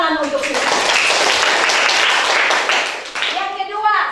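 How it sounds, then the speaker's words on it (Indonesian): A classroom full of children claps for a pupil named Susan, a dense patter of hands filling the room and holding steady for about four seconds, with a voice speaking briefly at the start and again as it ends. "Tepuk tangan untuk Susan"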